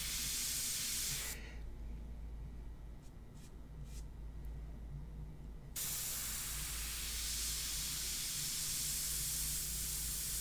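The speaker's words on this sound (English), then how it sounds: "What a beautiful airbrush, right guys? Just a beautiful airbrush." A Sotar Slim airbrush sprays India ink onto paper in steady, close hissing bursts: a long spray, a pause with soft taps, then another sustained hiss.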